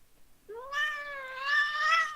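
An unhappy cat gives a long, wavering complaining meow, near and loud, swelling midway and still sounding at the end in otherwise quiet surroundings.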